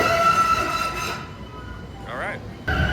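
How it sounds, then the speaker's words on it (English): A Boston T subway train on America's first subway system, dating to 1897, gives a close, steady mechanical rumble and whine, then a brief wheel squeal before the roar returns loudly near the end. "The T subway system here in Boston is the first one in America."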